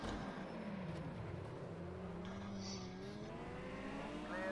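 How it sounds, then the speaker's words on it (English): Turbocharged car engine in the racing video game Project CARS 2, a steady loud drone with rising and falling pitch as it accelerates through gears, continuous throughout with no talk. "Turbo noise."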